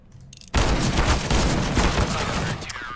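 A sudden loud burst of video game gunfire erupts after a quiet moment, revolver shots densely cracking for about two seconds before cutting off.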